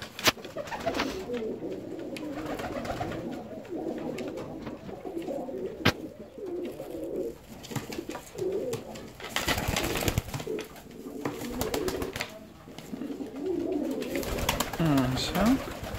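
Fancy ornamental pigeons coo softly at close range by their water table, with repeated throaty rolling calls and occasional wing flutters, while a person talks over them.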